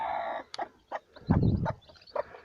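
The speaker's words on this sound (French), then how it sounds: "Les petits poussins, ils sont nés, donc je vais vous les montrer." Newly hatched chicks with a mother hen, giving a series of short, close peeps and clucks in scattered bursts over a soft background.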